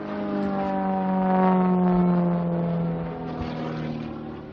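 Racing aeroplanes fly past at Old Warden race day, a sustained droning engine tone with strong steady harmonics that swells to a peak near the middle and eases off again, loud and fairly close with no talk.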